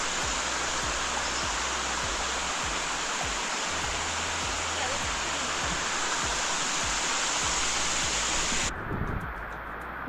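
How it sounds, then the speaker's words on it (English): A waterfall with no pool beneath it, a constant loud rushing hiss of falling water, with low buffeting thumps like wind on the microphone. "Cool waterfall."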